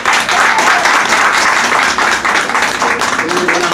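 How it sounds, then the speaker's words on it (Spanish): Audience applause at a combined graduation and birthday party, dense sustained clapping from a crowd that stays loud and close the whole time, with faint voices mixed in beneath it. "Aplausos, que se sienta."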